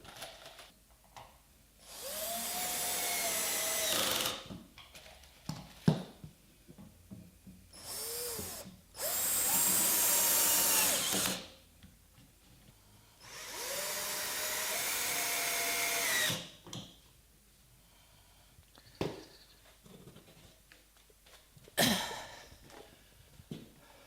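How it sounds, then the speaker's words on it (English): Power drill boring a series of shelf-pin holes in wooden wardrobe panels, several loud bursts of a few seconds each separated by quiet pauses, close up with no talk. "I can drill all the holes for the shelf"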